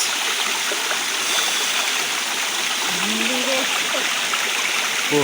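Cold stream water flowing steadily in a quiet outdoor spot, a continuous close rushing and gurgling wash with faint voice-like sounds briefly audible.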